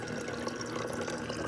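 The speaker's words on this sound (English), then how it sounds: "Of course, I got a sump running in the back." Faint, steady trickle and splash of water flowing through the sump of a 10-gallon Biocube aquarium, a soft continuous wash with no voices.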